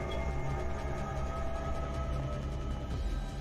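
In the Project: Playtime video game, a train moves along with a continuous rumbling, rattling roll, steady and fairly loud for several seconds, with no voices.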